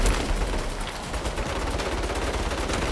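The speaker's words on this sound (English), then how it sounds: "Turret, take cover!" Sustained turret machine-gun fire in the Saints Row video game, a dense loud rattling burst of rapid shots running continuously without pause, alone with no talk.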